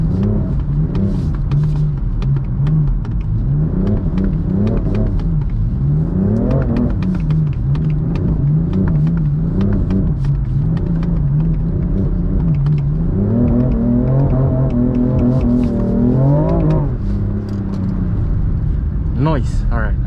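A BMW M4 drifts around a track in Korea, its engine droning loud and close with repeated rising and falling revs through the corners, and tyre noise beneath.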